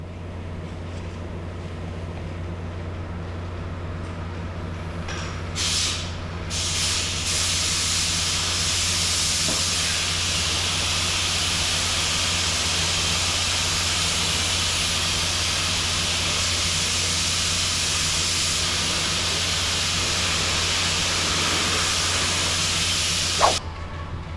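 Spray gun laying coats of urethane high build primer on a truck tailgate, a steady close hiss lasting over twenty seconds with a low hum beneath and brief clicks near the start and end.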